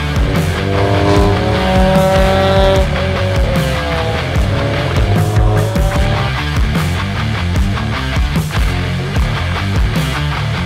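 A supercharged Honda NSX race car on the Jarama circuit is heard loud and close, its engine rising and falling through repeated gear changes and revving hard, with wailing, shifting tones throughout.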